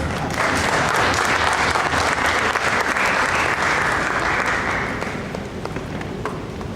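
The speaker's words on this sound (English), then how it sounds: "Please give him a huge round of applause and welcome him" A youth leadership program audience breaks into dense, sustained applause to welcome a speaker, loud and even for several seconds before tapering off toward the end.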